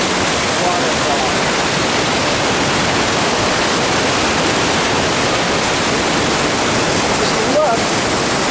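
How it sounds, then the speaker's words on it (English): Dettifoss waterfall in Iceland roars as a loud, unbroken wall of rushing white noise, close and constant throughout with no pauses. "Monster, monster, monster waterfall."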